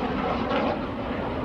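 A Hawker Hunter T7A jet with a Rolls-Royce Avon 207 engine passes at an air display, a steady broad roaring rush that swells slightly midway and holds loud throughout.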